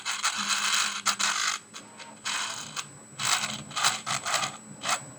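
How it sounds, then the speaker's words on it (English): A Ryobi rotary craft tool with a fine metal tip grinds lightly at a 3D-printed part, giving bright, whirring bursts that start and stop in short, uneven passes, close and moderately loud. "I got this fine metal tip on there because I just want to grind it down just a little bit"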